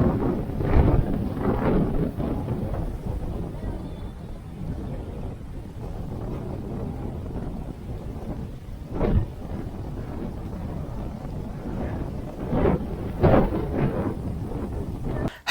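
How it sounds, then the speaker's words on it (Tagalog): Strong wind roars and buffets the microphone in heavy low rumbling gusts at a high spot at the Grotto in Dingalan, Aurora, with louder blasts now and then and no voices. "Ganito nga pala kalakas yung hangin sa taas"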